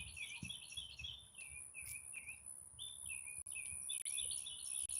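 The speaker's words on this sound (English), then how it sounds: "Listen at the birds sing." Birds sing outdoors during a walk, their chirps and warbling phrases repeating clearly over a faint hiss of distant background noise.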